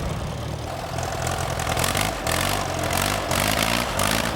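A restored antique tractor, its gearing changed to run forward instead of reverse, idles at a collectors' show with a loud, close, steady chugging engine that never lets up.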